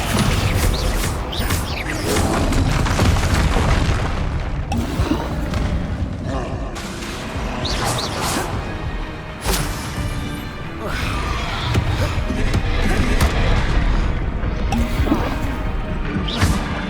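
Descendo spell impacts in a Harry Potter video game, dense loud slams and crashes repeating throughout alongside a voice calling spell names and game combat effects.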